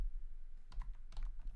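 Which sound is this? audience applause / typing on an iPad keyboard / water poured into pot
typing on an iPad keyboard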